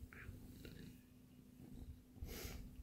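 A Persian cat making odd snorting, purring noises close by, a steady low rumble with a few louder snuffling bursts toward the end.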